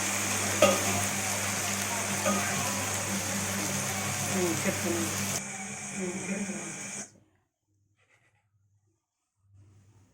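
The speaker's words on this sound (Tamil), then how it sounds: "இது மட்டும் அந்த சவுண்டு கேட்கணுங்கிறதுக்காக வச்சேன். பொரிக்கிற சத்தம் நல்லாயிருக்கும்." Steady, dense sizzling of fish frying in hot oil, loud and close, cutting off abruptly near the end into quiet.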